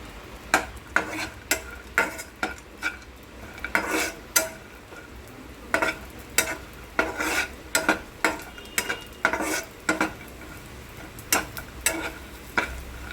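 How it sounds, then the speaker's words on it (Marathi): Dry fruits roasting in ghee in a pan, with repeated sharp scrapes and clinks of a spoon stirring against the metal at an irregular, steady rhythm over a faint background sizzle. "सगळं तुपामध्ये असं आपण मस्तपैकी भाजून घ्यायचं ड्रायफ्रूटला"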